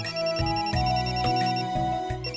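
A telephone ringtone plays loudly and close, a repeating electronic melodic ring with steady rhythmic notes, alone with no talking.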